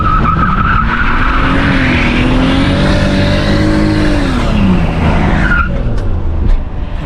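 A cheap project car spins mainly one wheel, its engine roaring loud and close while the tires screech in a long, sweeping skid that rises and falls in pitch before easing off near the end.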